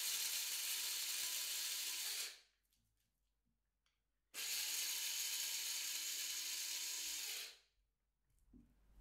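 Coffee grinding in a coffee shop roleplay setting: two long bursts of dense, whirring, rattling grinder noise, each about three seconds, separated by a quiet pause, close and fairly loud with no talking.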